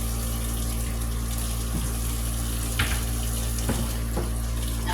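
Hot water running from a kitchen tap into a pot while cooking ground beef stroganoff, a steady close gushing stream with a constant low hum and faint clinks, no talking.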